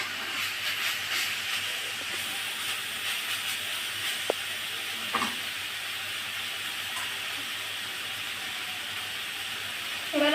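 Jute leaves frying in a pan give off a steady, close, hissing sizzle with a few faint clicks, and nobody speaks over it.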